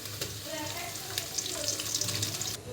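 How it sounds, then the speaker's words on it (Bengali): Chopped onions fry in a pan for a Bengali khichuri made with chicken, giving a steady close sizzle and hiss that holds without break for a few seconds. "পেঁয়াজগুলো ভাজা ভাজা হয়ে আসছে"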